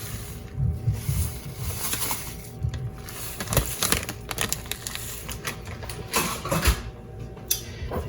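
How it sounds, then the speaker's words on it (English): Graham cracker crumbs are mixed with a fork in a bowl for cupcake crust, a close run of gritty scraping, crunching and tapping clicks in an uneven rhythm. "I like using forks to mix this stuff up"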